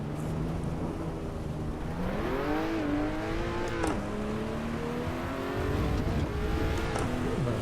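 A Lotus race car in Assetto Corsa EVO pulling out of the pit lane at Brands Hatch in the wet, its engine droning steadily, then rising and falling in pitch through several gear changes, close and continuous.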